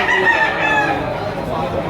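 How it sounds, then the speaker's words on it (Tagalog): Chickens at a Batangas market fill the scene with loud, close calls, a rooster's crow rising over continuous clucking and squawks. "magagandang manok ito"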